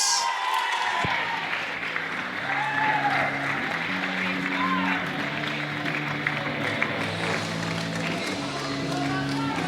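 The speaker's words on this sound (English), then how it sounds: "You can hear from the crowd how excited they are about this." A crowd claps and cheers at the 2020 Golden Shears women's shearing invitation event, a broad, sustained ovation with a steady roar of hands and a tonal hum running beneath it throughout.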